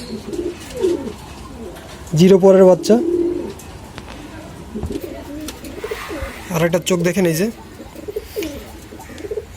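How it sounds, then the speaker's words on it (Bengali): Sylheti Kamagar pigeon chicks held in the hand give two short, loud bursts of close cooing calls while someone talks throughout. "আমার হাতে যে কবুতরের বাচ্চা যেটা দেখতে পাচ্ছেন এটা হলো সিলেটি কামাকারের বাচ্চা"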